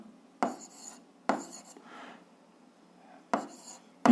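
Pen or chalk writing out an algebra solution in a quiet room, a few short scratchy strokes in separate bursts, close and fairly soft.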